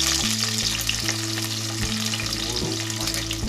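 Fenugreek, cumin, sambar powder and curry leaves sizzle in hot oil for a tempering, a dense, steady crackle and hiss close up, with faint stirring and no talk.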